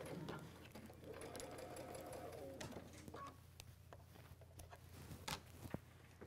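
A sewing machine hums and stitches in a steady run, fairly quiet, with occasional clicks and a brief bird coo in the background.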